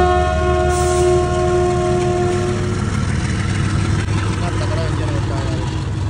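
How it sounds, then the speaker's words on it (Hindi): A passing train rumbles loud and close, with a sustained horn blast at the start and steady rolling wheel noise throughout. "तो कभी कभी मैं लेट होता हूँ तब ट्रेन मिलती है."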